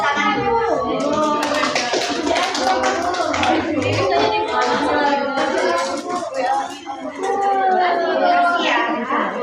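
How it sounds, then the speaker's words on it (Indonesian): Children clapping together in a classroom during a teaching session, a steady run of hand claps over lively chatter and voices, close and fairly loud throughout. "Tepuk tangan dulu."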